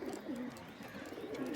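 A home-kept Rajshahi Giribaz pigeon, a Jak Dobaj male, coos in repeated low, rolling calls that sound faint and a little distant, running almost continuously.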